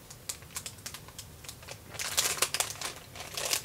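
Paper packaging being folded over and pressed down with washi tape, giving a run of soft crinkles and short crackling taps that grow denser and louder toward the end, close up with no talk.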